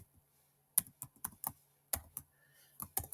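Fingers typing on a computer keyboard in a quiet room, uneven clusters of crisp, close keystrokes with short pauses between bursts.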